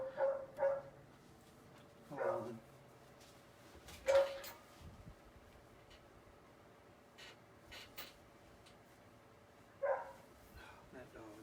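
Dogs bark in a few separate bursts spread across the stretch, fairly faint and distant, with quiet gaps and some low background noise between them.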